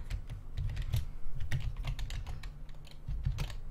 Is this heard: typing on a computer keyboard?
yes